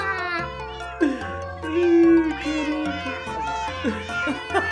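Several cats meow repeatedly and overlapping in the video game Minecraft, in a cat-dimension world; the meows are close and loud, with short drawn-out cries among the quicker calls.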